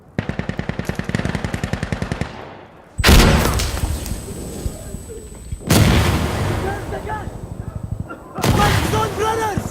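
Chemical mortars land in Insurgency Sandstorm, a series of heavy, booming blasts following a rapid run of automatic gunfire, each impact loud and close with voices shouting between them.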